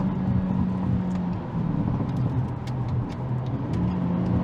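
A Hyundai Elantra N accelerates hard at full throttle after a launch, its engine a loud, steady roar with brief dips at gear shifts inside the car.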